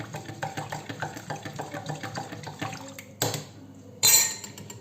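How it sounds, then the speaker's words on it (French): Brine made with lemon juice pours into glass jars of cabbage, giving liquid splashing and gurgling with repeated clinks of jars and utensils, close and uneven, ending in a couple of sharper bursts of pouring. "Et on vient remplir donc nos bocaux."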